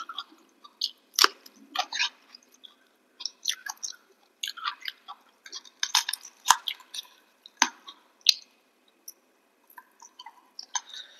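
Close, wet chewing and smacking of katla fish curry with rice and mashed vegetables, irregular bites and squelches separated by short silences.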